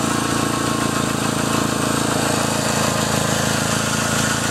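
A 2000 Plymouth Neon's 2-liter 16-valve Chrysler four-cylinder runs steadily at idle, a close, even mechanical drone with a regular rapid pulse and no talking.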